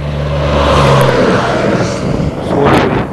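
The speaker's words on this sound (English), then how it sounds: "And so there's going to be a lot of trucks going by here." Heavy trucks rumble past on a road beside a truck weigh station, a loud, close engine drone that swells and fades and then rises again as another passes.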